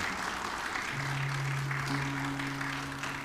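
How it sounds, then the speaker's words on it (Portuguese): A church congregation claps steadily and densely throughout, a sustained wash of applause with a faint sung or held tone underneath partway through. "Se é para aplaudir, arrebenta essa mão aí, gente."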